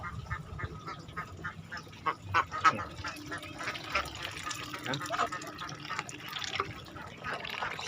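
Ducks being fed, giving faint, scattered quacks with splashy, dripping water and pecking noises, while someone talks over them at moderate volume.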